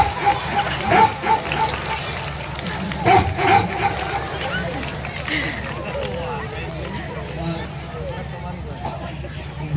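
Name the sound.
person imitating dogs fighting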